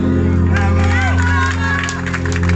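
An audience at a concert applauds and cheers loudly and steadily, with scattered whoops and voices rising above the dense clapping and a sustained low tone underneath.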